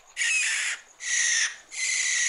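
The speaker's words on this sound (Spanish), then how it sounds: "¡Es la lechuza!" Cartoon owl hooting in three long, even, breathy calls separated by short pauses, loud and close with no talking over it.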